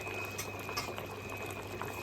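A pot of Bengali mustard hilsa fish curry bubbles steadily at close range, a continuous low simmering and popping with a faint high-pitched whine running underneath.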